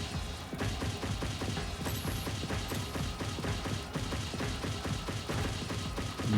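Car rocket boost in Rocket League while flying just above the ground: a steady dense roaring hiss with rapid rattling, crackling pulses throughout, holding at a constant level.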